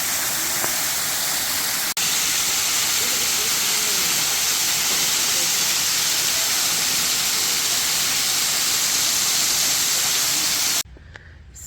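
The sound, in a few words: waterfall spraying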